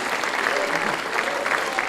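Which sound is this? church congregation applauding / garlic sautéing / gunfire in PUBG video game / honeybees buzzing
church congregation applauding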